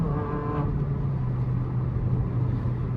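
A car pulls away once its gear engages, a steady low engine drone running close and loud throughout, with a brief higher tone near the start.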